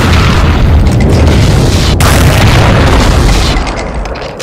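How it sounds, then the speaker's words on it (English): A hexa shotgun blast in a Doom mod fighting Archvile variants, a loud booming roar that fills the whole stretch and then tails off slightly near the end, with no voice over it. "Or just a single hexa shotgun blast."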